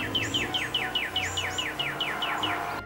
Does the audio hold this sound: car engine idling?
no